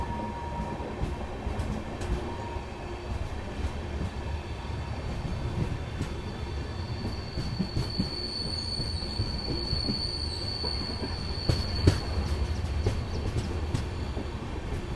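Inside a new LHB coach of the Vishwamanava Superfast Express between Belagavi and Mysore, a steady rumble of wheels on rails carries on, with faint clicks and a thin high squeal partway through.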